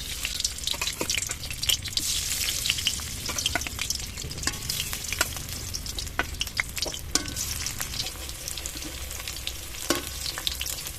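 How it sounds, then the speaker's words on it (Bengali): Pumpkin pieces fry in hot mustard oil in a pan, giving a dense, close crackle with scattered sharp pops and spits and no voices. "গরম তেলে কুমড়োগুলো ছেড়ে দেবো।"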